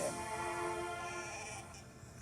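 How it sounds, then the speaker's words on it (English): A sheep bleats in a long wavering cry that fades out, followed by a brief sharp noise at the end. "All the sheep were waiting for him."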